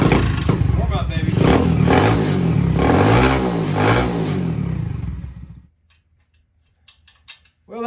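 A Honda ST90 motorcycle fitted with a Lifan 125cc semi-automatic engine revs loudly nearby in rising and falling surges for about five seconds, then cuts off abruptly, followed by a few faint clicks.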